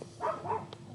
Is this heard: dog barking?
yes